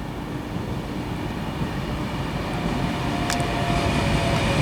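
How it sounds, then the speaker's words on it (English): An Avanti West Coast train, running from London Euston to Birmingham New Street, arriving at Birmingham International station on the West Coast Main Line: a steady, building rumble of wheels and traction that grows louder toward the end, with no speech. "next train to arrive is the 11:33 Avanti West Coast service to Birmingham New Street from"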